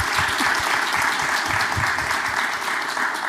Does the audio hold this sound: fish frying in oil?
no